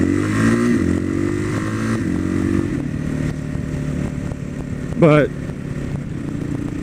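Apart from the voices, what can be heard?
motorcycle engine winding out in fifth gear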